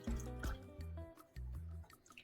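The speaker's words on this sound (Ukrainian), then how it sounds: "і виливаємо 50 мл води." Water poured into a bowl of honey, vanilla sugar and salt for oat cookie dough, a faint close trickle and splashing in uneven bursts.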